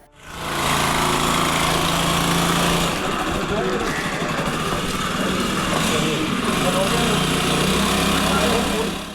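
The small engine of a water hyacinth removal machine for the canals of Kuttanad in Alappuzha drones loudly and steadily from start to finish, a harsh, close mechanical buzz with no pauses.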